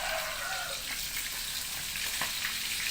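Food frying in hot oil, a steady bright sizzle holding at an even level without a break, with no voices present.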